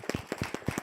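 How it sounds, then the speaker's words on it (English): Applause for panelists at an evening tech event, caught as a handful of distinct, fairly quiet claps in an uneven rhythm. Only a few hands seem to clap, nearby, with no talk over them. "Let's give them a round of applause."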